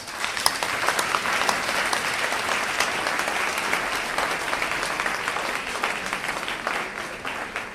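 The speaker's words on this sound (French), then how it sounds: "Applaudissez Pasteur Henri." A church congregation in Winneba, Ghana applauds their pastor, a dense, steady wash of many hands clapping that fills the room evenly for several seconds without pause.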